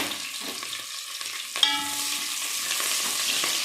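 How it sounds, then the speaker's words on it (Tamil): Chopped onions and green chilies sizzle and fry in hot tempering oil with mustard seeds and split lentils, steady crackling broken by a brief stir and a sharp spatter partway through, close and alone. "வதக்கி விடுவோம்."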